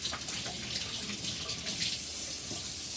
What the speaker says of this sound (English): Just going to wash my hands for a second here so we're not all fishy.